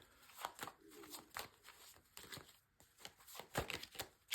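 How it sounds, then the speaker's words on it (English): A deck of tarot cards is shuffled up close, giving a series of crisp riffling bursts and soft slaps in an uneven rhythm, moderately loud, with no talking. "So first of all, a good shuffle."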